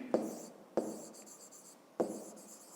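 A pen writes figures by hand for a fifth-grade math exercise, making three separate scratchy strokes at close range with quiet pauses between them.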